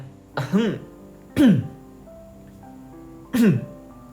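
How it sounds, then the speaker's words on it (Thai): Someone clears their throat three times, short gruff bursts spaced a second or two apart, close and fairly loud. "ผมทำเสียงกระแอมสกัดพวกมันสองคน"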